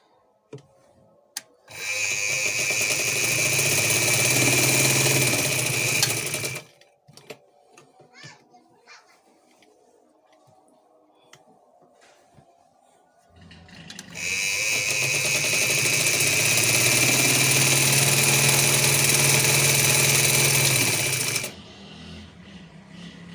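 A sewing machine stitches a salwar in two long, loud, steady runs separated by a quieter pause with light handling noises; no speech is heard.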